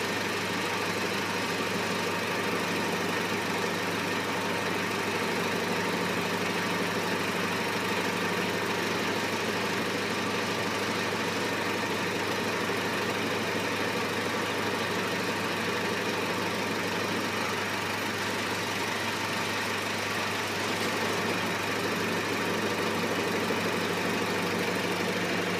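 A 1998 Honda Civic with a 1.6 engine idles with a steady, even, low mechanical hum. It runs unchanged for the full length, heard alone without any voices.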